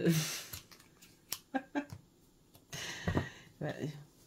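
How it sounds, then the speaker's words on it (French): Scissors snipping straight through a paper page while crafting oracle and tarot cards, a few short close crisp cuts with gaps between them, with speech in between. "Et là, je coupe droit"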